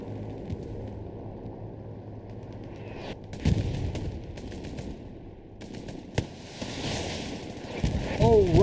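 Rocket explosions in the World War II shooter Hell Let Loose, a loud impact around the midpoint and further blasts near the end over steady battlefield gunfire, with a commentator talking throughout.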